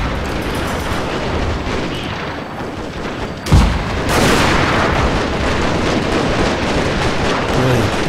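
Gatling guns firing on a Shogun Total War 2 Fall of the Samurai battlefield, a dense roar of continuous gunfire. A sharp heavy boom punches through partway, then the rattling barrage swells louder and keeps going.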